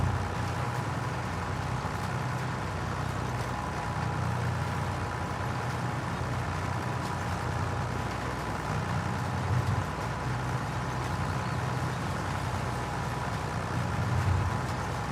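A tractor engine runs with a steady low rumble that carries on unbroken and even the whole time, without speech.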